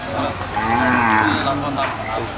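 Cattle lowing at a busy livestock market in Hathazari, Chattogram, Bangladesh, with a long drawn-out moo rising over the crowd noise and holding close and loud for most of the moment.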